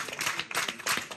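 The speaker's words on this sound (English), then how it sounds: "Applause from their supporters, who dismiss this trial as politically motivated" Courtroom applause from supporters after a verdict against Alexei Navalny's lawyers in Russia, a brief burst of clapping from a small crowd that swells and dips, close and clear.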